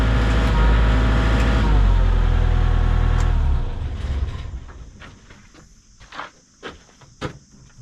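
A JLG boom lift engine runs at a loud, high rev for about three seconds, then drops off, followed by faint mechanical clicks and knocks, close up, no talking.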